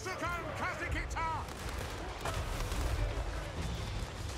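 Battle gunfire and artillery booms from Total War: Warhammer 3, a rumbling barrage of distant shots and blasts under overlapping shouting voices.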